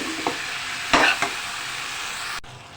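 Chopped onion frying in a pan for a black chickpea masala, a steady loud sizzle with a few spoon scrapes early on, then the sizzle drops abruptly near the end, heard close with no voices.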